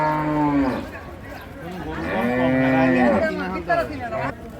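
Several loud, drawn-out cattle moos overlap close by, one after another, at a livestock market in Hazratpur, with faint crowd chatter in the background.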